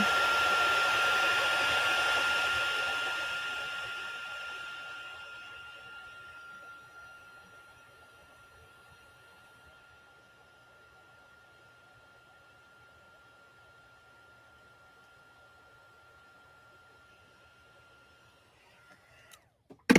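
A heat tool blows a loud, steady whooshing roar while heating embossing powder on a card. It fades out gradually, then clicks off with a sharp knock at the end.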